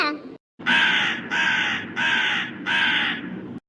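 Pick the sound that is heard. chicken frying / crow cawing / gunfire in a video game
crow cawing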